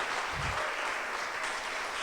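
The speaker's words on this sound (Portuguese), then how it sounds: "Dê um aplauso para Jesus" A church congregation applauds together, a steady wash of clapping filling the whole stretch with no voices over it.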